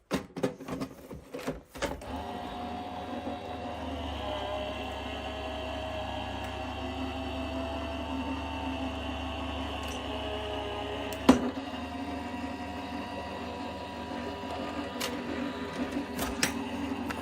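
A Gemini die-cutting machine draws a detailed die through its plates with a long, even motorized whir, steady and close, broken by a few clicks and one sharp knock partway through.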